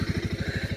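A small four-wheeler ATV engine running on a farm, a steady close, pulsing low putter with even rapid firing beats throughout.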